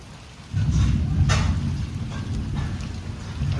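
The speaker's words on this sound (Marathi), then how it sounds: "आणि पाऊस बघा भरलाय कसा" Heavy monsoon rain pours down in a Konkan village, a loud, dense, steady roar that swells suddenly after a quiet start and then keeps up evenly.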